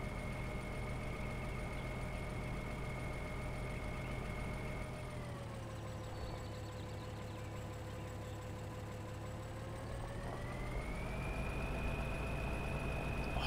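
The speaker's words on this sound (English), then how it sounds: "I love the sound of this tractor." A tractor engine in the farming game Farming Simulator 2013 drones steadily at a constant hum, its pitch dipping partway through as the revs drop and then rising again, quiet and continuous.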